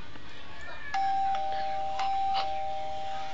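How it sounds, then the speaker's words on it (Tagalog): A doorbell chimes twice, sounding clear and fairly close with a sustained tone between the strikes, over a quiet indoor background. "May nagdo-doorbell."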